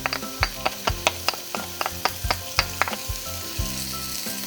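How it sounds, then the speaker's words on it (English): Chili flakes and garlic sizzling in hot oil while making lasagna, a close, steady crackle broken by sharp pops and a few low knocks from stirring. "We're adding the chili flakes to the hot oil."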